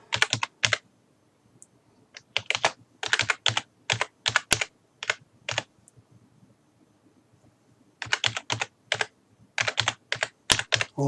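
Username and password typed on a computer keyboard, in rapid bursts of crisp key clicks separated by short pauses, close and clear with no talking.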